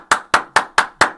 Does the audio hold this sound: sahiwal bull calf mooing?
no